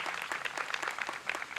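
Audience applause at a branch library grand opening and ribbon cutting, a steady wash of many hands clapping at moderate distance, even and continuous with no voices over it.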